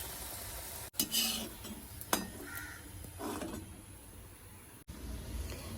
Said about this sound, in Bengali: গরম গরম ওকে কটা লুচি ভেজে দিই